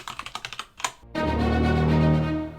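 Typing on a computer keyboard: a quick run of close, crisp key clicks, then a sustained tonal sound in the second half.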